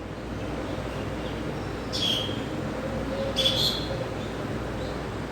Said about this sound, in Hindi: ये बया जो पक्षी है ये उसकी आवाज़ है